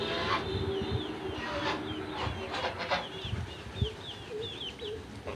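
Broiler chickens in a village setting, soft repeated chirps and clucks over a busy rustling background with occasional flaps and knocks nearby.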